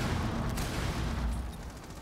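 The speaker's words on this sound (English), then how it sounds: "Lots of explosions coming through" Explosions and gunfire in a Rainbow Six Siege collegiate esports match, a dense, loud, continuous barrage of booms and shots filling the whole stretch without pause.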